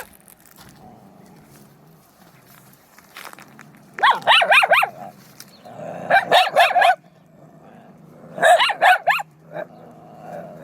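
Street dogs bark in three loud clustered bursts, each a quick volley of sharp barks, with quieter shuffling and faint noise between them.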